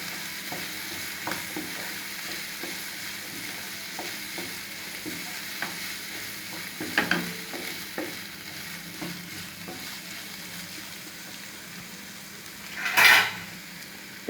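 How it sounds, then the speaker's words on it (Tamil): Carrots and green peas sauté with chicken in a pan for chicken katori chaat, a steady low sizzle with scattered spoon taps and one louder metallic clink near the end. "சேர்த்து நல்லா வதக்கிக்கலாம்"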